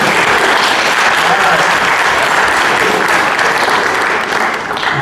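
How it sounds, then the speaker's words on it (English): Sustained audience applause at a district candidate forum on discrimination and LGBTQ issues, loud and dense, steady throughout with a slight fade near the end. "your applause can eat into the candidates' time"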